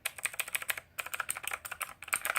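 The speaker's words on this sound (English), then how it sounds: "This is the Motospeed CK104 mechanical keyboard." Quick bursts of keystrokes on a Motospeed Inflictor CK104 RGB mechanical keyboard, crisp clicky taps in rapid runs with two brief pauses, heard close and alone.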